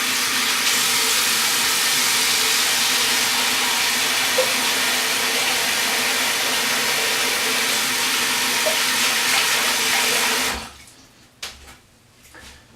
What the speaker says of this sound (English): So I'm just going to quickly rinse my face